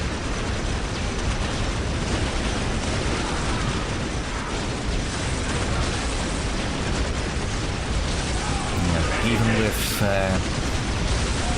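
Weapon fire and explosions from a Land Raider's twin-linked lascannons battling a Chaos Predator in the Dawn of War video game, a dense continuous barrage of blasts and mechanical noise, loud throughout, with someone talking over it near the end.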